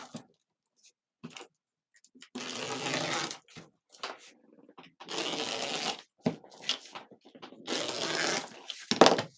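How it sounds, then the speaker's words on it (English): Christmas deco mesh being cut into 10-inch pieces gives several separate bursts of crisp rustling and slicing, each lasting about a second, with quiet pauses between them. "we're going to cut 16 10-inch pieces."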